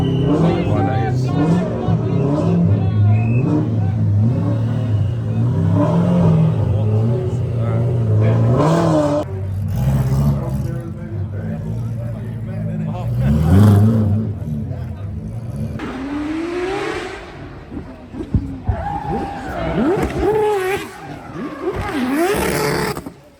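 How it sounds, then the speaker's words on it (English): A rotary-engine car wearing a McLaren P1 body, the Mad Mac, revs at the Goodwood Festival of Speed, its loud engine droning and rising in pitch amid crowd chatter, with a sharper rev surging near the end. "this is the Mad Mac, which uses a body of a McLaren P1 with a rotary engine"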